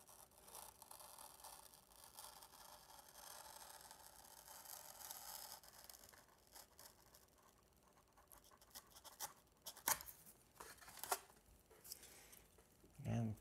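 Blade scraping and slicing through a balsa model aircraft wing to separate an aileron, soft scratchy strokes close by with a few sharper snaps near the end, under quiet speech.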